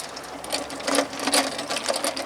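A magnet swept over the ground beside an RV picks up scattered metal bits, making a dense, rapid crackle of small clicks and rattles that rises and falls in uneven bursts.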